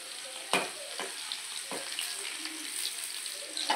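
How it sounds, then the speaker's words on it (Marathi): Garlic fries in hot oil while a vegetable dish is cooked, a soft, steady sizzle close by with a few sharp spatula taps and scrapes against the pan. "तेल आपलं छान गरम झालं आहे, त्यात आपल्याला थोडासा लसूण टाकून घ्यायचा आहे। लसूण आपल्याला सोनेरी होईपर्यंत परतून घ्यायचा आहे।"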